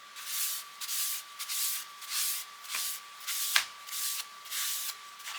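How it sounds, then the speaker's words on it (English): A cloth soaked in alcohol rubs a wooden surface clean before vinyl is applied, giving repeated rhythmic swishing strokes close to the mic, with a couple of faint taps and no talking. "I'm going to rub this off with alcohol as well"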